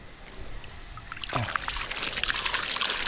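A small-diameter garden hose pours water onto soil, first a quiet trickle and then a louder, steady splashing flow that builds after a second and continues to the end.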